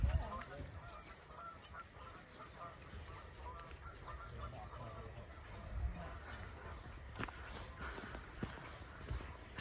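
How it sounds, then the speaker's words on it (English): Outdoors on a sunny day, geese honk and call at a distance among soft footsteps and faint background sounds, with a voice briefly heard. "Can you hear the birds?"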